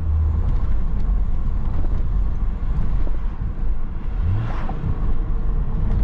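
A remapped BMW E34 525 TDS Touring diesel heard from inside while driving, a loud steady engine drone with wind rush and one short rising rev as the driver matches revs on a downshift.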